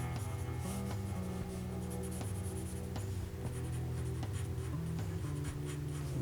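Pencil strokes on paper while sketching the lines of a hand, a steady close scratching that runs throughout under a constant background of music.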